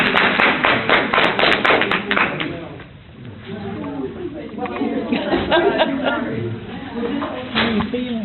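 A small group of people claps in a quick burst of sharp taps for about two seconds, then the clapping fades as voices carry on talking.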